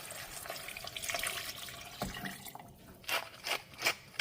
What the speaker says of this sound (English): Now let's add water.